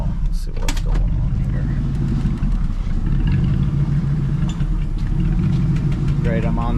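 A cabover truck that keeps stalling in reverse sits idling at close range, its steady low rumble running throughout with a faint rise near the end.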